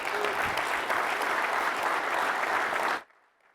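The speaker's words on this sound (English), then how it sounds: "Give him a round of applause." Audience applause fills a room for about three seconds, steady, dense clapping at close range, then cuts off abruptly into quiet.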